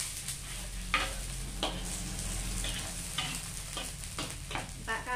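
A spatula scrapes and stirs food sizzling in a hot pan, with soft repeated strokes every second or so over a constant crackling fry, close and fairly quiet with no talk.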